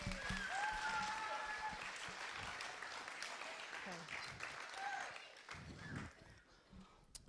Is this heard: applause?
yes